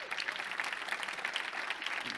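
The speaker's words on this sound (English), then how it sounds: "Give him a round of applause, please." A crowd at a keynote fireside chat claps steadily to welcome a White House strategic engagement director, dense even applause of moderate loudness with no talking over it.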